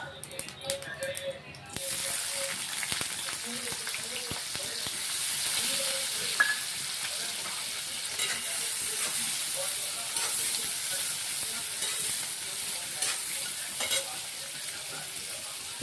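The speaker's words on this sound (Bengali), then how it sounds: "দিয়ে এখানে আমাদের পেঁয়াজের বেরেস্তাটা আমরা ভেজে নেব" Sliced onions frying in refined oil over a high flame to make beresta for kuska biryani, a steady close sizzle and hiss with scattered stirring clinks and scrapes, after a brief louder clatter at the start.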